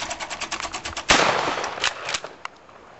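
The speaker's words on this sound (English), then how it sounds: "exercise his savage pump gun today" A Savage pump-action shotgun fires at clay targets outdoors. One loud, close blast with a decaying echo follows a burst of quick rattling pulses, and a couple of fainter knocks come after it.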